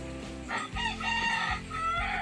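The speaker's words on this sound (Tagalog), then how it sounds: "Ayun, manok." A rooster calls up close in several loud, throaty bursts, harsh and strained, one right after another over a couple of seconds.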